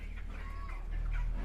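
Chickens cluck on a poultry farm, a dense, continuous mix of clucks and murmurs over low rumbling farm noise, with no talk.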